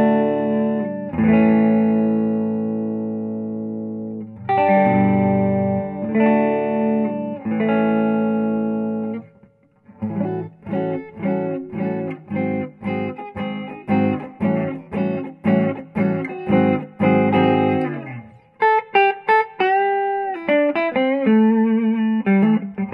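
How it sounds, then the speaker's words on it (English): Clean electric guitar on the neck pickup through a tube amp with no effects, playing chords and then single notes, warm and full with little reverb, ringing strums giving way to a picked melodic line. "In our neck position, turn our volume up. We're playing through a tube amp with very little reverb"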